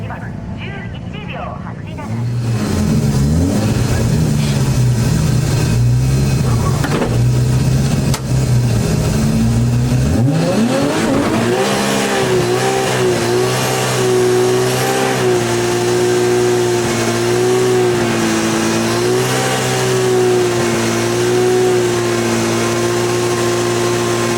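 A turbocharged AE85 race car with over 900 horsepower does a long burnout. The engine roars loud and sustained at high revs with the pitch wavering throughout, and a commentator talks over it.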